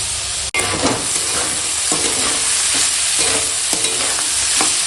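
Tender spinach and vegetables fry in a pan for a Bengali snail curry, a continuous sizzle broken by regular scraping strokes of a spatula, close and fairly loud with no talking.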